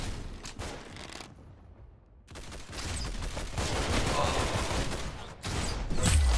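Dense, continuous gunfire from the Roblox shooter Arsenal, rapid shots and bursts crackling loudly with a brief lull before resuming, heavy and close throughout.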